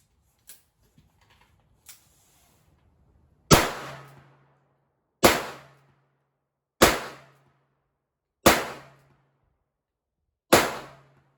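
Five loud, evenly spaced shots from a Smith & Wesson 3-inch J-frame Chiefs Special revolver firing light wadcutter loads, each with a sharp crack and short ringing decay, after a few quiet clicks of reloading.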